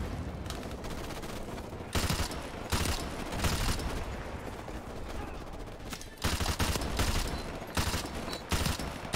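Light machine gun firing in the shooter Call of Duty, with several long, loud bursts of rapid automatic fire broken by short pauses.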